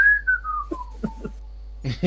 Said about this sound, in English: just kind of whistling away